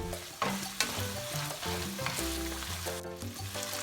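Ground pork mixed with mirin, soy sauce and black bean garlic sauce sizzles in a pan, a steady close frying hiss broken by clinks and scrapes of stirring, with no talking.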